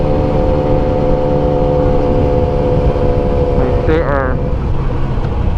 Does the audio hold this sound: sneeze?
no